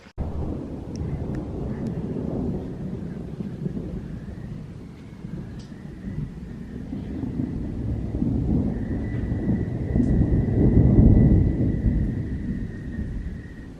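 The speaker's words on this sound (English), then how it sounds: "Well, there it is. There's the thunder." Rolling thunder from a rainstorm in Croatia, a deep low rumble building and swelling toward the end, heard outdoors amid steady rain and wind.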